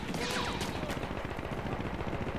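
Gunfire and explosions from the World War I shooter game Battlefield 1, a dense, continuous clatter of shots and blasts filling the whole stretch at steady loudness with no talk over it.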